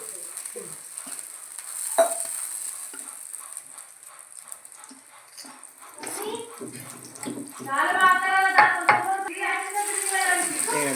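Fish dipped in masala sizzles in hot oil, a soft hiss through most of the stretch, partly masked later by a person talking.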